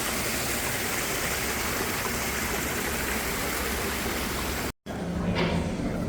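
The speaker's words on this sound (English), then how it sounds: "Just with the water running here." Water running steadily in a cafe water feature, a constant close rushing splash that fills the space, briefly cut off before resuming with faint trickling, no talk.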